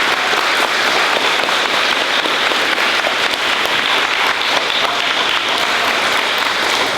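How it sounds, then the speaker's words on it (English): Loud, dense applause from an audience at a fifth-grade school recognition ceremony, continuous clapping from many hands, close and sustained at an even level from start to finish. "let's give these guys one more round of applause"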